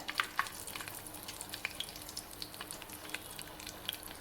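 Fennel and mustard seeds frying in hot oil for tomato rice, a soft continuous sizzle with scattered faint pops and crackles.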